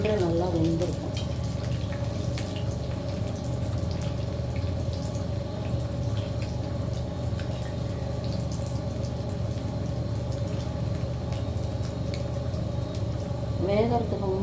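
Cauliflower balls fry slowly in oil over a low flame, giving a soft, continuous sizzle with scattered small crackles and pops and a faint background hum.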